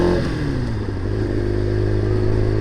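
A 1998 Kawasaki ZX6R engine runs steadily at moderate revs while riding through town, a close, continuous mid-pitched drone with a faint rising whine and a slight dip near the start.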